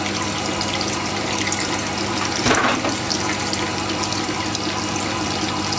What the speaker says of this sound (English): I put the machine on and it turns slow. It's a slow sharpening machine